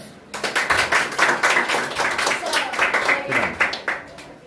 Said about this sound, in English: Give him a big round of applause once.